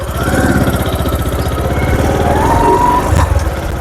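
A new motorcycle's engine runs steadily close by, a continuous low chugging idle with a dense pulsing rhythm throughout and a slight rise near the end, no voices.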